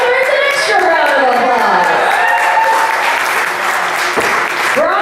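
Comedy club audience in Albuquerque breaking into loud, sustained applause and cheering, with voices calling out over the clapping throughout.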